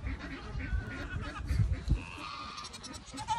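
Goat does on a farm bleat close by in a short burst of overlapping calls, with a rustling, noisy background.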